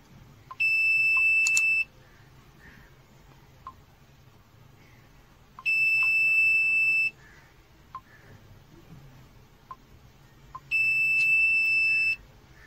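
A high electronic buzzer from an Arduino driver-alert project sounds three times in long steady beeps about five seconds apart, over a quiet, noisy background.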